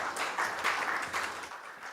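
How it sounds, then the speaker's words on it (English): Applause from a conference audience at a programmatic advertising event, a soft, steady patter of clapping spread across the whole two seconds, moderately distant and fairly quiet. "Let's give him a warmer round of applause as we welcome him on the platform."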